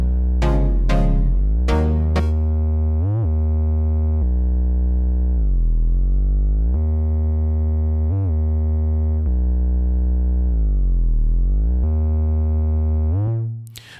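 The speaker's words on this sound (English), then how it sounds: "you can hear that sound is gliding" A buzzy synth bassline slides smoothly between notes, pitch gliding up and down in long sustained tones, loud and alone, opening with a few sharp stabs.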